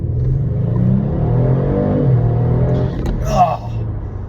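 A Hyundai Veloster in sport mode accelerates hard, its engine rising in a loud, sustained rev close by inside the cabin, then easing off near the end.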